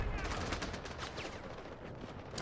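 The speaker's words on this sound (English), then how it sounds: "I'm being shot at" Gunfire in the Delta Force video game, a steady dense rattle of shots at moderate distance filling the clip without clear gaps.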